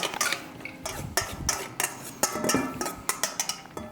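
A utensil clinks and scrapes against a pan in quick, irregular strokes as Alfredo pasta sauce is stirred briskly, close up with no voices.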